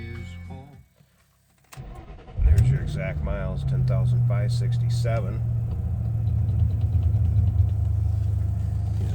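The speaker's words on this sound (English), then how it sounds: "Start it up so you can hear it run." A supercharged 2006 Ford Mustang Saleen S281 coupe cranks briefly, fires up and settles into a loud, steady rumbling idle close by, with someone talking over the start.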